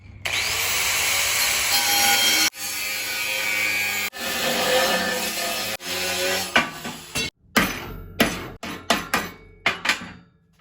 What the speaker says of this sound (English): I'm going to cut that steel here